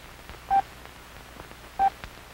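Two brief, clear beeping tones, evenly pitched and separated by a pause, sound over faint background noise.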